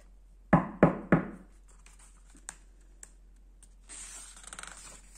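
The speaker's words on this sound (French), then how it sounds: "Il frappa à la porte." Three loud, evenly spaced knocks on a door ring out close by. Faint clicks follow, then a rustling texture.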